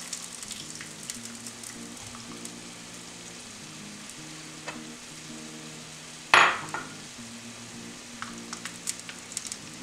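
Celery and garlic sizzle in a frying pan as stuffing for French bread, a soft, steady crackle under quiet background music, with one sharp clatter of a utensil partway through.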